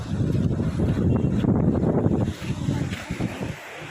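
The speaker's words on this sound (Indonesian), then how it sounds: "Jangan turun di bawah karena masih keras ini ombak." Heavy surf roars and crashes continuously nearby after a storm in Baubau, Indonesia, with gusty wind noise buffeting the microphone.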